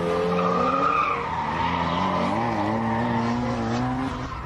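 A Mazda RX-7 convertible drifts at a Kyushu event, its tires squealing in a long wavering howl over a strained, loud engine note for the whole stretch.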